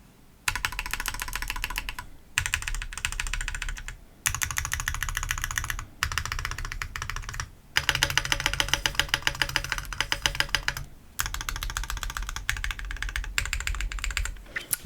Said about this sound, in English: you can really hear that spacebar. That feels like a rattle.